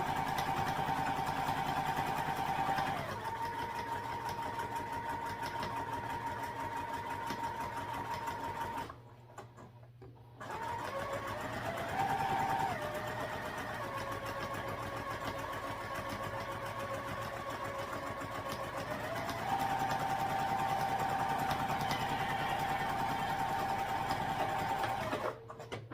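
Sewing machine running steadily while stitching a 1/4 inch seam on fabric for a sling bag, a continuous close whir that pauses briefly midway and then resumes, with no talking.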